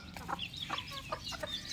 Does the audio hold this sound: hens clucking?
yes